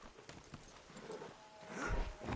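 A horse's hooves clip-clop in Red Dead Redemption 2, a few faint soft steps that grow into heavier thuds toward the end, quiet and unhurried with no voices.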